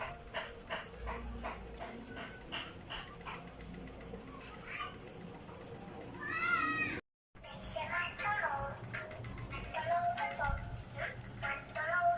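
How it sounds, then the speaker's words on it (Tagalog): A cat meows repeatedly in high, wavering cries amid a busy household, with a dog whimpering and barking and a person talking throughout. "Ito na ang pusa."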